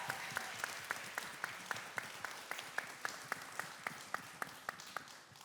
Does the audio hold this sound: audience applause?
yes